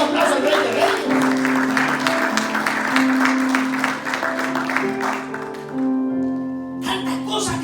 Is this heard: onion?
no